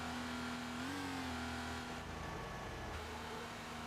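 A Porsche 911 Carrera RS 2.7 engine from the Need For Speed Porsche Unleashed racing game holds a loud, steady drone throughout, rising briefly in pitch early on before settling back, with a constant rushing hiss and no voices.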